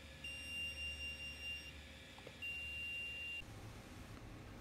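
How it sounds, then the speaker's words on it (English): Auber WiFi BBQ controller on a Weber Smokey Mountain sounding its pit low temperature alarm: a faint, thin, continuous electronic tone that stops, resumes after a short gap, then cuts off. "our low temperature is triggered because we set our pit low temperature alarm to 200 degrees"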